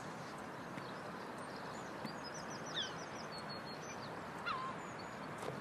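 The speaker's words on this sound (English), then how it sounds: "Oh, there's loads of seagulls up there." Seagulls call faintly overhead outdoors, a few thin cries rising over a steady hiss of wind and background noise, with no talk.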